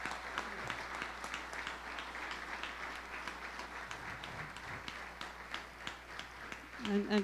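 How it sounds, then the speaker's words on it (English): Applause from a press conference audience at a Mount St. Mary's men's basketball event, a steady moderate patter of clapping held throughout with some voices under it. "Could you all give them a round of applause, the members of our program here?"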